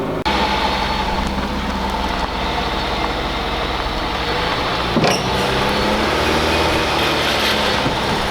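An auction car's engine idles steadily nearby with a continuous low rumble, broken by a single clunk partway through and no voices.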